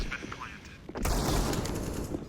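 Glock pistol fire in a Counter-Strike match, with rapid shots and then a denser burst of gunfire. It sits under excited commentary and is loud and busy.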